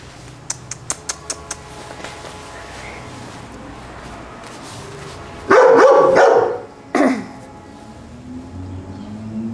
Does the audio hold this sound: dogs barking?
yes